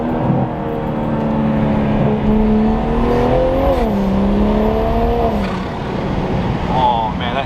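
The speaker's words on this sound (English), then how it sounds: "that intake sounded Way too good" Engine intake roar of a truck being driven hard, a loud steady drone whose pitch climbs, dips and swells again through the run, with people talking in the cabin over it.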